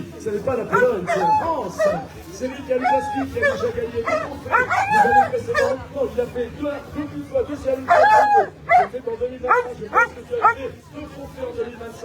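Sled dogs barking and yipping at the start of a stage of a sled dog race in Aussois, mixed with a rooster-like crow, heard steadily under continuous French commentary.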